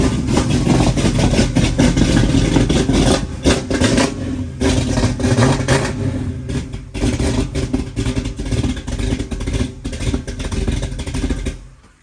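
A 1969 Ford Mustang Mach 1 V8, running shortly after its first start following restoration work, idles loudly and roughly with a steady throbbing rumble, close and continuous, with slight fluctuations before cutting off at the end.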